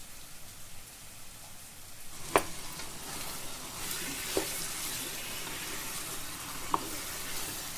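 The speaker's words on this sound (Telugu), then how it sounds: "ఇప్పుడు ఈ మసాలాల్లోకి వాష్ చేసి పెట్టుకున్న చికెన్ వేసుకుంటామండి." Washed chicken pieces dropped into fried masala for Dindigul-style biryani, giving a steady close sizzle and crackle with a few sharp pops and spatters throughout.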